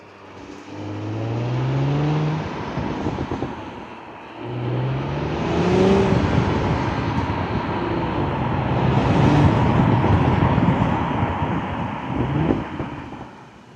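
An accelerating BMW X3 M40i or Audi SQ5 SUV climbs through gears with a warbling exhaust note, repeated rising engine sweeps and a steady loud drone throughout, heard from inside the car.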